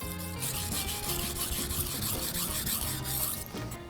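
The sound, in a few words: knife being sharpened back and forth on a whetstone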